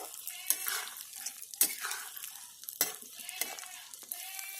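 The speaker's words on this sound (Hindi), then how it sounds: "दूसरी बार एक गोंद को डाल के फ्राई कर रही हैं" Edible gum (gond) sizzling as it fries in a pan for ladoos, a steady hiss broken by several sharp scrapes and clinks of a spoon stirring against the metal, close and moderately loud with no talking.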